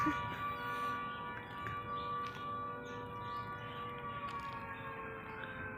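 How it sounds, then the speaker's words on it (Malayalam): A steady, sustained siren wail drones throughout at a distance on an island, fairly faint and unbroken, with no voices. "അയ്യോ, സൈറൻ അടിക്കണ ഒച്ച."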